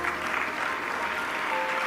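An audience at a youth summit applauds to welcome a panelist to the stage, a steady wash of clapping from a crowd that holds evenly for the whole short stretch.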